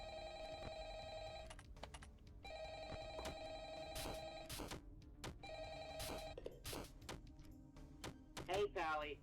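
A phone rings in a video game: three bursts of bright electronic ringing close up, each one cut off by sharp clicks and thumps, with a short warbling tone at the end.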